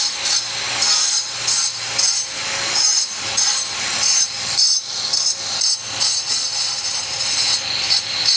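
An angle grinder cuts steadily at a home build site in Da Nang, Vietnam, during patio preparation. The high whine holds loud and close, with rhythmic surges as the blade bites.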